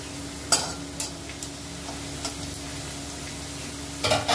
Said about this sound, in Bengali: এর ভিতরে দিয়ে দিচ্ছি গোটা জিরে ফোড়নে।